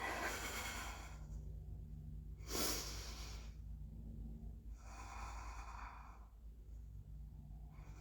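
Slow, deep breathing while holding a yoga posterior chain pose, one long inhale-exhale cycle after another, close and airy with soft hissy exhales and a low room rumble, no talking.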